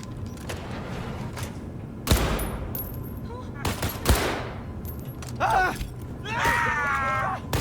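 Gunshots ring out at a gun range in the video game Cyberpunk 2077, a few sharp bursts spaced across the scene alongside other game sounds and brief tonal effects.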